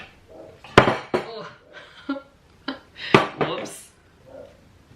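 Cooked mac and cheese noodles are moved out of a pot, with sharp clanks and clatters of dishes and utensils in uneven bursts, close and fairly loud, while a person speaks briefly.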